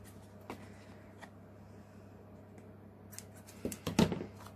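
Scissors trim paper for a craft die, a few faint snips spread across a quiet room, ending in a slightly louder cluster of cuts.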